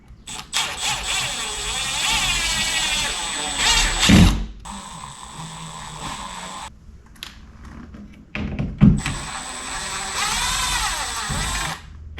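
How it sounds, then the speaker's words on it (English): A power drill whirs in several long bursts, close and loud, widening holes for a bolt during a thermostat install, separated by short pauses with clunks and handling noises. "drill those holes out a little bit more for the bolt"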